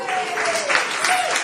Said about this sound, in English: have everybody give them a round of applause